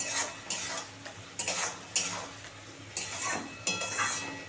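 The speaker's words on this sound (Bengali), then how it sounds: "এই যে দিয়ে একটু নাড়াচাড়া করে নিলে" Fried paneer is stirred into a spicy Manchurian sauce in a pan, with a soft steady sizzle under repeated scraping strokes of a spoon against the pan, close and without speech.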